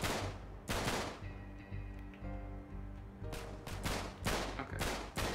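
Gunfire in the video game Uncharted 3: Drake's Deception, loud repeated bursts of shots with sustained rattling fire between them and a droning game soundtrack underneath.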